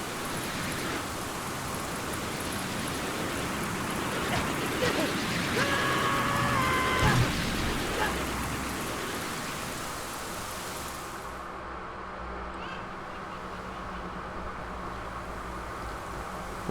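Rainstorm in The Legend of Zelda: Ocarina of Time, a steady broadband rush of rain that builds slightly in the middle, then thins to a duller, quieter wash toward the end.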